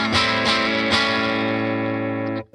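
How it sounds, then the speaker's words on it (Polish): An electric guitar on a humbucker pickup plays through a Blackstar valve amp with light overdrive. A few picked, sustained chords ring out fairly loud, then cut off sharply at the end. "Delikatny przester wchodzi."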